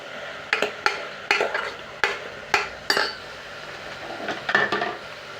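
Ground onion and dried red chilli masala paste is stirred and fried in a pan for mushroom gravy, with repeated scraping strokes and soft sizzling in an uneven rhythm, close up, and no talking.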